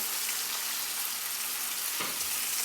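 A New York strip steak sears in a hot skillet with a loud, steady sizzle and crackle throughout, plus a brief scraping clatter near the end as the meat is moved.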